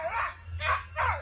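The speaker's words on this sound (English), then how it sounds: "Little doggy over there has got Napoleon complex." A small dog yips and barks in three rhythmic bursts, slightly distant, over a steady low background hum.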